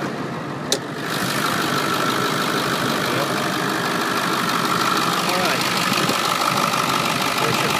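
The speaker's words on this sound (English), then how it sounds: "People have been asking us to, when we do our videos, to open the hood with the truck running." A 2003 Ford F250 with the 7.3L diesel engine idling with the hood open, a steady clattering rumble held close and constant after a brief quieter start with a single sharp click.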